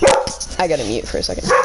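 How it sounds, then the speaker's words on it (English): A dog barks several times in a home, sharp close yaps in short bursts at the start and end, with a person talking over them in between. "Sorry for the barking"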